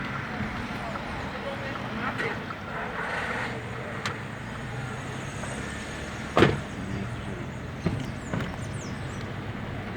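A car drives steadily through a practical driving test route in São Luís, with a continuous road hum and a couple of brief knocks, while an instructor talks over it.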